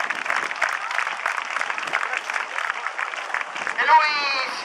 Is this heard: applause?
yes